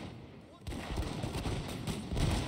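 Arquebus volleys crackle in a Total War battle, a dense burst of musket fire starting abruptly and rolling on, mixed with distant battle noise and a quiet voice.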